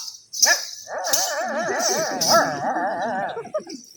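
A voice imitates a dog, producing a continuous run of wavering barks and whimpering yips, loud and close, lasting several seconds.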